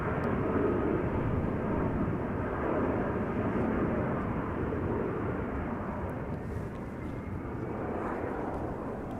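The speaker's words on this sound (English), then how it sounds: "More heavies taking off, also from center" A heavy jet airliner takes off at Amsterdam Schiphol, a fairly faint, distant low engine roar holding steady and fading slightly toward the end.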